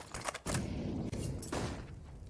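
Counter-Strike rifle fire on the Nuke map during a professional match, loud rapid bursts of gunshots with brief gaps between volleys, close and punchy, with no talk.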